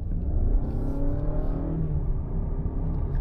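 A Honda Accord e:HEV hybrid with a 184 hp drive motor pulls away as the accelerator is pressed, giving a steady, close motor whir and low rumble that builds slightly, with no talk over it.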